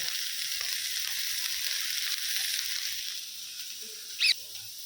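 Green chilies and ginger frying in a pan, a steady broadband sizzle holding evenly for most of the clip, easing slightly toward the end, with a brief sharp clatter near the close.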